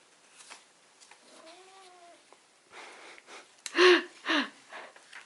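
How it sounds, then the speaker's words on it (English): A pet cat gives a few soft, wheezy vocal sounds, then two louder meow-like calls close by near the end, in an otherwise quiet room. "My cat is picking something."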